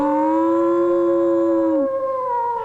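A dog howls in one long, loud, wavering tone close by, sliding slightly in pitch before tailing off near the end, with no other sound around it.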